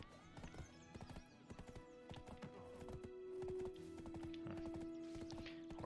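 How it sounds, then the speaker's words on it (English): Horse hooves clip-clop at a steady walking rhythm in Black Desert Online, joined by a brief whinny and tonal game sounds, all fairly quiet. "Horse out of control here."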